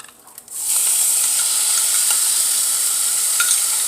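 TVP and tomato sauce hit a hot pan and burst into a loud, continuous sizzle after a brief quiet moment, the hiss holding steady with faint crackles throughout.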